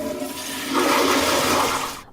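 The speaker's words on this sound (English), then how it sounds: "Many people think after a flush, it's all gone." A toilet flushes with a loud, steady rush of water that swells in the middle and cuts off sharply at the end, close and alone with no voices.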